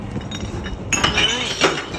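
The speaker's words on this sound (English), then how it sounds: "We're gonna go recycle glass." Glass kombucha bottles clink into a big yellow glass recycling container, with a couple of bright, sharp clinks and a rattling crash over a murmur of outdoor background noise.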